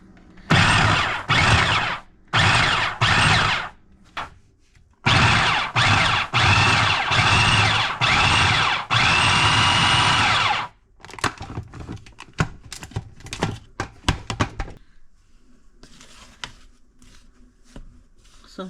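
A food processor pulses apricot rugelach filling with pecans and vanilla in loud bursts, several short pulses then longer whirring runs with the nuts rattling inside, followed by clattering and tapping as the bowl settles.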